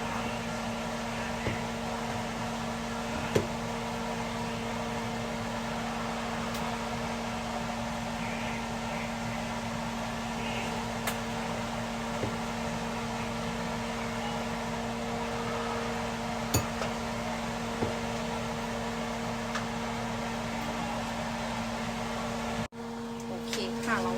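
Noodles deep-fry in hot oil for a beef khao soi, giving off a steady, even sizzling hiss with occasional faint clinks.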